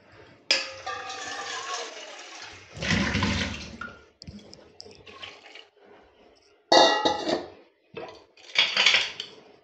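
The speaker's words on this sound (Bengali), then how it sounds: "তারপর জল দিয়ে দেবো। বেশি জল দেওয়ার দরকার নেই, আর একটু দিতে হবে।" Water is poured into a pot of salted, overnight-soaked peas, with splashing and clattering of metal pots and utensils in short, separate bursts, the fullest pour near the start and more brief pours later.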